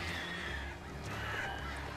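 Harsh cawing from birds in the video game Alan Wake Remastered, layered over a dense, continuous game ambience for a brief moment.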